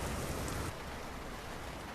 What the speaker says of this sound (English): it looks like it's going to be a rainy one for us